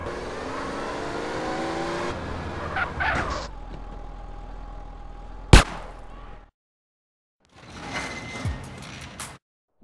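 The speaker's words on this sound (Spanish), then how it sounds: "Este auto es muy rápido" A fast car's engine revs and roars in the video game GTA San Andreas, loud and rising, broken by a sharp crash, then a brief silence before the engine returns.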